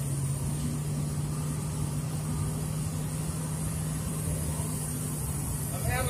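Steady, low, even idle of a scrapyard-rescued Ford Fairlane engine ticking over around 500 RPM, a continuous close rumble with no change in pitch.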